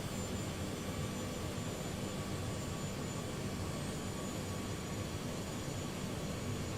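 Airbus A330 jet engines on the runway in Microsoft Flight Simulator, a steady broadband roar and whine that holds constant and fairly faint without any break.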